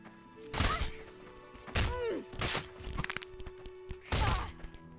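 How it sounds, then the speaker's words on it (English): A sword stabbing an NPC in Blade and Sorcery, with several loud heavy thuds and cracking impacts in bursts, including a snapping crunch as the neck breaks, amid faint ambient game sounds. "you can hear his neck break as I push the sword in"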